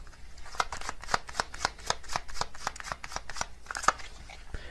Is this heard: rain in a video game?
no